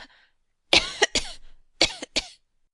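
A woman coughs in short bursts: a faint throat noise, then two close harsh coughs, a pause, and two more coughs, close and clear with no other sound.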